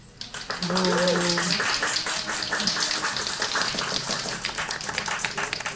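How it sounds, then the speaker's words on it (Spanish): An audience at a panel presentation for an experimental sound-exploration artist breaks into steady applause, a dense, continuous patter of many hands clapping that swells quickly and holds at a fairly loud level throughout. "le damos un fuerte aplauso por favor a Manuel"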